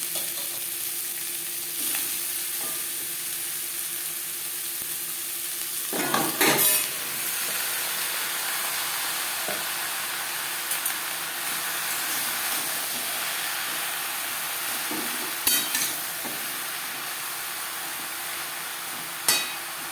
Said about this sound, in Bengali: আমি রান্নাটা করছি সরষের তেলে, যেহেতু সাবেকি একটু রান্না, সরষের তেলে করলেই ভালো হবে।